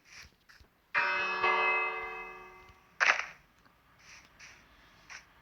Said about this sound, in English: I wanted to ring the bell to check if there's anyone else